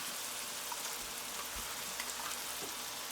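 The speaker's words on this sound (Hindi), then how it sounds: "तली हुई प्याज के साथ अदरक लहसुन को अच्छी तरह से फ्राई कर लें।" Ginger and garlic fry with fried onions in a pan, making a quiet, even sizzle with faint crackles throughout and no talking.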